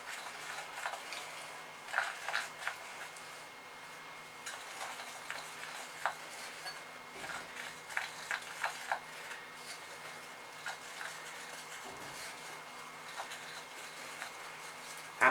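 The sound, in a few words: mixing cupcake batter from a Bluey cupcake kit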